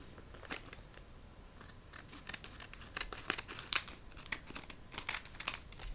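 Scissors snip through a plastic black bean noodle package, with crinkling and tearing of the wrapper in a run of short close cuts and rustles.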